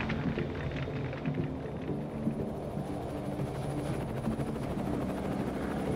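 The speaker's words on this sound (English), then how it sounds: "It's the piece of weaponry most feared by the rebels, a Soviet helicopter gunship." A Soviet helicopter gunship flies overhead, a steady rumbling rotor thump with faint rhythmic chopping, moderately quiet and continuous, with no talk.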